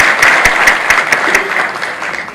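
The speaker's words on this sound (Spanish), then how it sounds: "Un aplauso para Jorge." Audience applause for a speaker at an economic forum, a burst of clapping with a few sharp distinct claps standing out at first, then thinning and fading over about two seconds.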